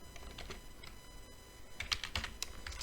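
Soft keystrokes tap on a computer keyboard while Python code is entered, a faint irregular patter of clicks that grows busier toward the end, with no voices.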